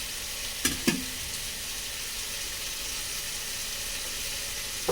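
Prawns fry in a pan with a loud, steady sizzle and crackle, broken by a couple of sharp utensil knocks early on.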